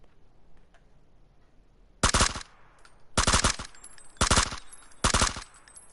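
Bursts of gunfire ring out in PUBG on console, four loud rapid volleys spaced about a second apart, sharp and close over quiet game ambience.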